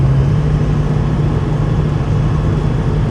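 A manual-swapped Toyota Chaser JZX100 with an R154 gearbox, its engine droning steadily with a strong low hum while accelerating, loud and close, holding a constant pitch throughout.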